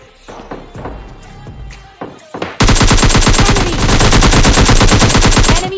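Gunfire in the mobile game PUBG Lite: a few scattered single shots, then a sustained loud burst of rapid automatic fire that runs on without pause.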